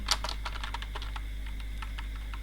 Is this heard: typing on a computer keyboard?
yes